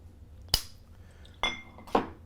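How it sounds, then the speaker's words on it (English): Three separate clinks of ice and a spoon against a glass as a Rosita cocktail is stirred on the rocks, each tap sharp and close, with quiet gaps between them. "Just give a little stir on the rocks"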